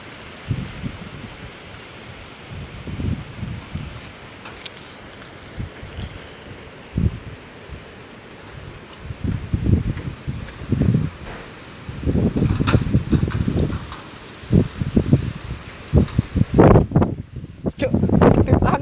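Strong gusting wind sweeps through trees in an Indonesian village, leaves rustling in a broad continuous roar that swells in loud surges toward the end, with bursts of handling rumble close to the microphone.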